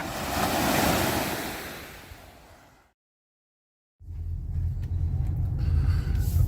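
Waves wash onto a secluded Lake Superior beach in a steady roaring surf with wind buffeting the microphone. The sound cuts out briefly, then returns with a heavier low rumble.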